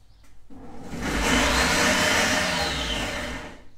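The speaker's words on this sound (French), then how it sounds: "Je vais venir les mettre dans le bol de mon robot" An electric food processor chops onions and shallots in its bowl while making risotto, its motor whirring up loud and steady for about three seconds before winding down, with no talking over it.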